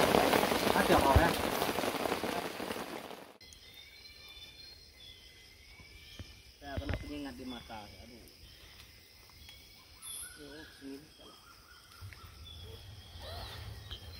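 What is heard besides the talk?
heavy rain at night while hiking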